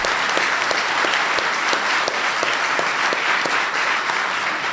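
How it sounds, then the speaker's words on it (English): An audience applauds for senators at a presidential event on small business, a thick, continuous wash of clapping with sharper individual claps popping out, sustained evenly from start to finish. "Please give them a big round of applause."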